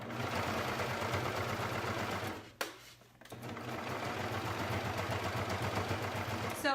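A sewing machine stitches an elastic waistband in a steady, fast droning whir, close up, briefly pausing midway before resuming its continuous mechanical hum.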